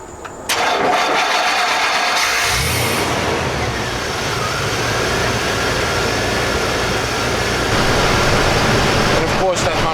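Chevy K5 Blazer with a crank-no-start electrical fault cranks briefly, then catches and settles into a loud, steady running idle close by, with a voice heard faintly at the start.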